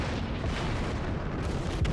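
Naval gun barrage in the warship battle game World of Warships, a dense continuous rumble of heavy booming salvos that rolls on without pause, no talking.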